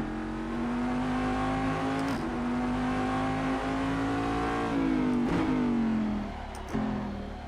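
Cadillac DPi prototype race car engine in the Assetto Corsa racing game, a loud steady drone that climbs in pitch through the gears, with brief drops at each shift and no talking.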